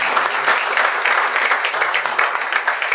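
Loud, dense applause from an audience at a DevOps talk, many hands clapping steadily and close for the full few seconds.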